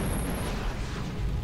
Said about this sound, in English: That noise you just heard is a NPC ship hitting a frigging bit of ore.